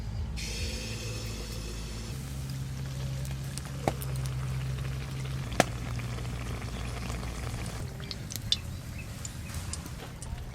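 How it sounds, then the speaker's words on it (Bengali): Sugar pitha frying one at a time in hot oil, giving a steady low bubbling sizzle throughout with a few sharp clicks and pops; faint background noise, no speech. "পিঠেটা ভাজা হচ্ছে"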